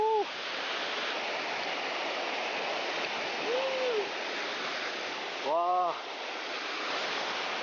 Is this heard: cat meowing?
no